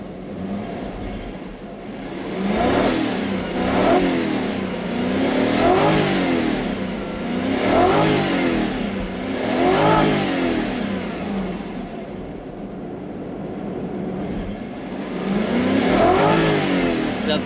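A Toyota Soarer engine cranks over, catches and runs, revving up and down in several strong, repeated swells before dropping back toward a rough idle, loud and close with no talking.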